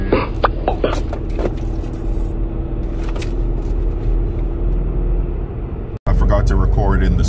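SUV cabin on back roads with a constant low road rumble and engine drone beneath a person talking, with brief clicks and a sharp cut near the end.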